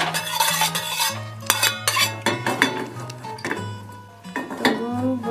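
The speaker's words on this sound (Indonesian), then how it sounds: "Masukkan minyak 1 sendok, diratakan ke seluruh" A spoon scrapes and clinks around a wok as oil is spread over the pan while cooking Balinese abon basah. The metallic stirring is steady and close, with a low tone running underneath.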